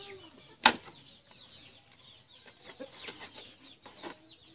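Backyard chickens cluck softly at close range in a series of short, scattered calls, with one sharp louder squawk near the start and light rustling between the calls.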